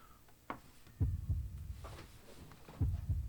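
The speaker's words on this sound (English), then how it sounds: "Almost like a heartbeat kind of thing." A heartbeat effect opens the song intro of a performance on The Singer 2017, low muffled double thumps in a slow lub-dub rhythm, quiet and alone apart from a faint airy background.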